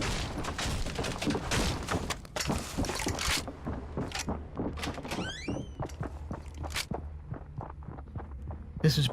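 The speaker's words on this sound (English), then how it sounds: "We can hear the footsteps all around, Bad Dad playing it safe." Footsteps in the Fortnite battle royale video game, a steady run of short thuds and scuffs repeating throughout, close and fairly loud over a dense bed of game sounds and effects.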